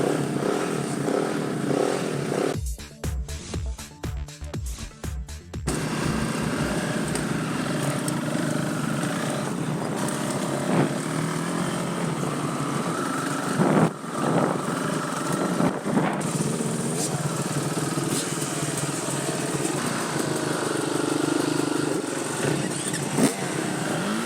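A dual sport motorcycle riding on a cold, wet road with light snow flurries: a steady engine drone with rushing wind noise throughout, close to the rider, with brief changes in throttle and no talking.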